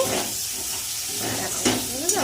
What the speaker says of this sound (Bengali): লঙ্কার গুঁড়ো মশলা ভালো করে কষিয়ে নিয়েছি